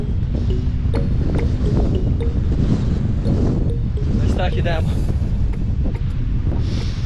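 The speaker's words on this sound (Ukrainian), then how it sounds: "Ну вітер неймовірний. 20 метрів за секунду." Strong wind of about 20 metres per second roars across the microphone on a mountain while someone speaks briefly, the blustery rush continuous and loud throughout.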